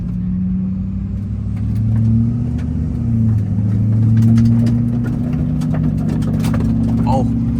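A Duramax diesel truck on 38x15.50 Mud Grappler tires drives along with a steady engine drone that swells as it accelerates, rising tire roar beneath, heard from inside the cab while a person talks.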